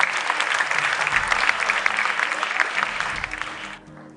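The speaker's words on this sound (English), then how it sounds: "Put your hands together for them." Audience applause at a school quiz competition, a steady dense wash of clapping that holds for several seconds, then tapers and thins near the end.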